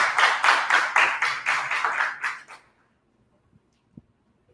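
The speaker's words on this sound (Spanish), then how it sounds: "le damos un fuerte aplauso" Brief applause from a small audience at an art forum, a short burst of clapping lasting about two and a half seconds that fades into near silence, followed by a few faint taps.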